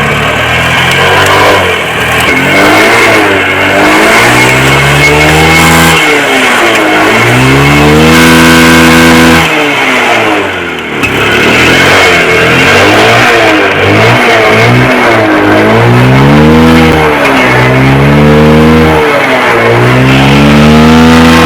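A motorcycle engine with a bottle fitted over its silencer starts and revs hard, rising and falling in repeated loud, close bursts with no talking.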